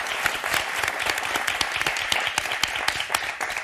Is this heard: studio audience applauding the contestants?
yes